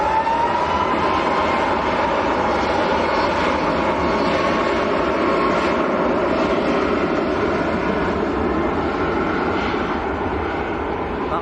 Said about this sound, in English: Ryanair just about to roll,